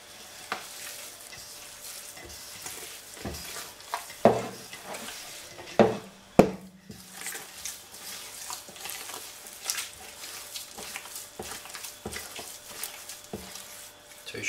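A homemade cheese mixture is stirred in a pot, with steady scraping and soft wet churning punctuated by several sharp clinks of a utensil against the pan, close and alone without talk.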